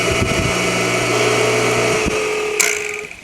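Pool pump motor of a filtration system switching on and running, a loud steady motor hum with a tonal whine that holds for a couple of seconds before a sharp click and a fading run-down.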